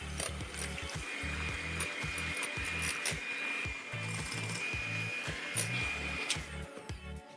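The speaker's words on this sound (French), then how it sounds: "Le plus facile, c'est de faire ça avec un batteur électrique" An electric mixer beats whole eggs and sugar for matcha madeleines, a close, continuous whirring motor with rhythmic knocking as the beaters strike the bowl, steady throughout without speech.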